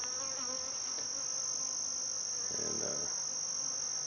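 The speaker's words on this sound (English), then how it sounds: "just moved some bees out of that strong hive into here when I split it" Honey bees buzz steadily around a hive set up after a split, a constant close insect drone with a brief voice near the start.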